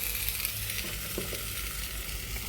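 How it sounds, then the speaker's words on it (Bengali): Eggplant slices frying in a pan with a little turmeric give off a soft, steady sizzle, quiet and close, with no talking. "এখানে বেগুন ভাজাটা হচ্ছে"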